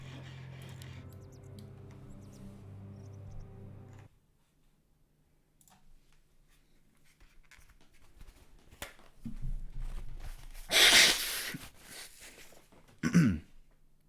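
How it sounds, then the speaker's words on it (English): A person with a cold blows their nose in a quiet room, a short loud honking burst followed moments later by a second briefer blow. "Sorry, had to blow my nose."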